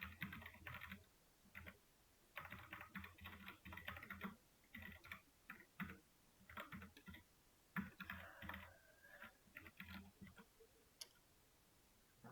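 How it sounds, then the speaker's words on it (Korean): Typing on a computer keyboard during a Linux lesson, quiet bursts of rapid key clicks with short pauses between them, close and alone without speech. "결국 타이핑을 해야 되는구나."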